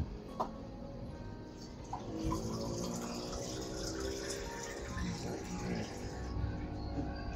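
At a meal, water runs and splashes steadily, growing louder partway through, with faint voices and background noise underneath.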